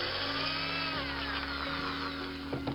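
A quick power drill drilling into a Corgi diecast model car to split it apart, a steady high whirring drone with slight pitch shifts and small clicks near the end, close and continuous.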